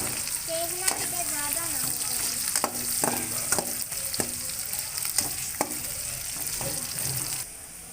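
Onions browning, sizzling and crackling in a hot pan, with scattered clinks and scrapes of a spoon stirring, steady and close.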